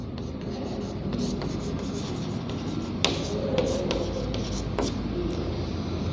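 Marker or chalk scratching on a board during a maths lesson, a steady scraping run of strokes with a few sharper taps, close and moderately loud over a background hum, no talking.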